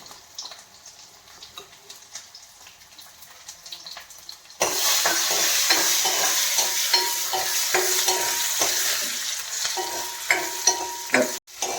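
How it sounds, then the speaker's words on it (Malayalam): Close, loud sizzling of small onions frying in hot oil for a curry, with repeated scraping and stirring of a spoon against the pan, after a quieter opening stretch. "ഉള്ളിയൊക്കെ മൂത്തിട്ടുണ്ട് ഇവിടെ."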